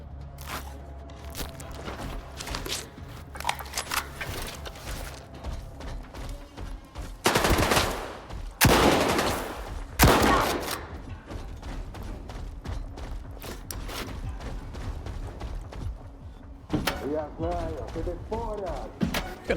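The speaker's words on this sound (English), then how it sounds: "Someone's shooting." Gunfire in Stalker 2: Heart of Chornobyl, scattered shots and short automatic bursts at middle distance over a steady ambient hum, with a few louder, closer volleys partway through and footsteps in between.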